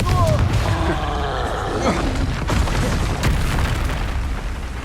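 A Confringo spell explodes in the video game Hogwarts Legacy: loud, close, booming blasts layered with whooshing magical effects over busy game sound.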